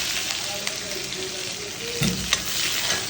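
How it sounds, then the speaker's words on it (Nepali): Gundruk and sinki frying in a pan, a steady close hiss of sizzling with occasional stirring scrapes and a louder knock near the middle, no voices. "यो सुङ्खिला हालेर चाहिँ यसरी मजाले भुट्ने रातो हुने गरी भुट्ने"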